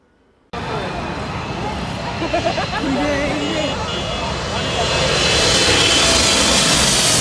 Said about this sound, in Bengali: মানে একদম কাছাকাছি দিয়ে গেছে, প্লেন নামতেছে